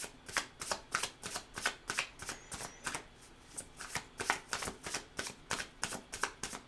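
Tarot cards being riffle-shuffled in quick, even bursts of crisp flutters, close and steady, with no talking.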